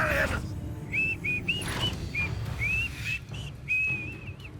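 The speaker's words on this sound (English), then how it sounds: "Oh yeah, whistling?" Melodic whistled notes in the video game Hogwarts Legacy, a series of short and held whistle tones over low game ambience, with a brief voice murmur at the start.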